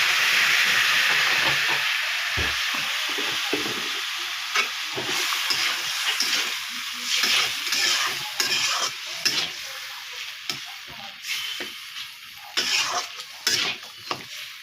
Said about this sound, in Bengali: লঙ্কার গুঁড়া, অল্প জল দিয়ে দিচ্ছি কষানোর জন্য।